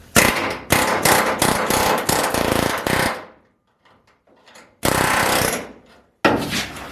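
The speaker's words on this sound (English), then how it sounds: "Grab the air hammer and blast that, and hopefully it'll fall off this time." An air hammer rattles in loud rapid bursts against the quarter panel of a 1987 Bronco during disassembly, three long blasts separated by quiet pauses.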